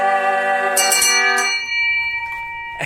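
A ship's bell struck at sea, bright ringing strokes with long sustained metallic overtones that decay slowly, followed by a brief knock near the end.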